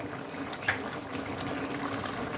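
Water is poured into a simmering pot of drumsticks, a soft steady liquid rush over low bubbling, fairly faint and close, with no one speaking.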